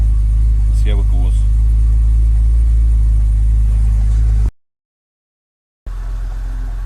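A barn-find Jaguar XJ6 with major engine problems idles while warming up, a loud steady low rumble that briefly cuts out before resuming, with a voice over it.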